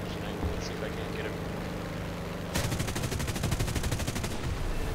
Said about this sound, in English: I'm gonna get away from that 20mm tail gun. He's already opening fire on me.